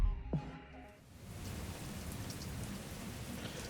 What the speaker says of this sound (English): The torrential downpour seemed to come out of nowhere.